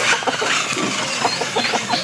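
Laying hens cluck in a newly built backyard chicken coop beside a house on a small farm, giving short, scattered calls close by over a steady background hum.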